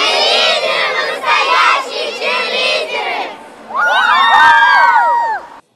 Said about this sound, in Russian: Также для каждой команды характерны свои кричалки.